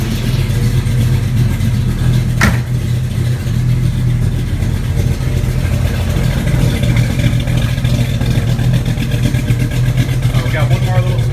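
A 1974 AMC AMX Javelin engine idles steadily with a low, even rumble, close by and continuous, with a single sharp click partway through.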